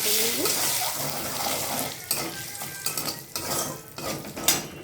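Chili powder, turmeric and salt being stirred in a pan, metal spoon scraping and clinking against the pan in irregular strokes over a light background sizzle, close and clear.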